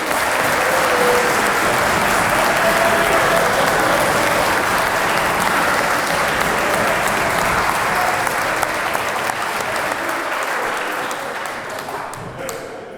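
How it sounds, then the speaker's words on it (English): An audience at a publication event applauds loudly and continuously, dense clapping close by with scattered cheers, tapering off toward the end. "clap for yourselves"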